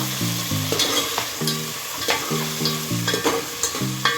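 Onion frying with whole garam masala for chicken dalcha, a close steady sizzle broken by repeated stirring scrapes and spoon knocks in an even rhythm, with no talking.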